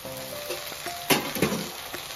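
Okra sizzles gently as it fries in a pan on low heat. A few stirring scrapes and soft clinks rise above the steady hiss. No one speaks.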